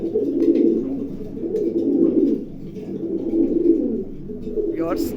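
Imported Budapest racing pigeons coo in a steady, rolling low murmur that swells and fades throughout, with a brief higher chirp near the end.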